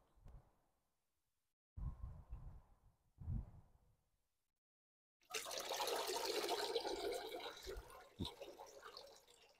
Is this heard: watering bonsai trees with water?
yes